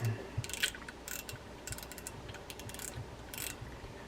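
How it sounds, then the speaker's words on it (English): Small plastic and metal clicks and ratcheting come from a Matzuo fishing reel as its drag adjuster button is removed, producing quiet, close, irregular bursts of mechanical noise. "to eliminate the spool, you're going to take the drag adjuster button. I'm going to remove that."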